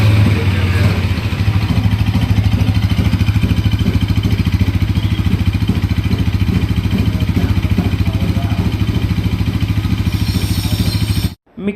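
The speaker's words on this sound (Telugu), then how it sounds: "ఇంజన్ సౌండ్ కూడా మీకు క్లిప్ పెడుతున్నాను" A 2025 Bajaj Pulsar NS200 motorcycle engine running steadily at close range, a loud, even idle-like throb with a fast regular pulse that cuts off abruptly near the end.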